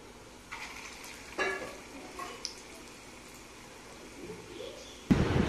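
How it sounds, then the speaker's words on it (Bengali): Balls of red lentil paste drop into hot oil for fritters, producing a low soft sizzle with a few louder splashes and bubbling bursts, one sharp at the end. "ডালের যে পেস্ট আছে সেটাকে গোল গোল করে তেলের উপরে ছেড়ে দিচ্ছি"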